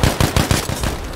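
A loud close burst of machine gun fire in Battlefield V, rapid evenly spaced shots rattling off in quick succession.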